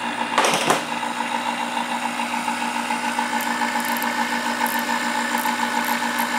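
IDOD neck turner cutting the donut out of a brass case neck, a steady close mechanical hum from a spinning spindle, with a brief scraping burst at the start and faint high clicks throughout.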